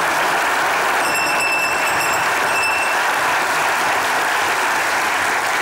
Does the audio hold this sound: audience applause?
yes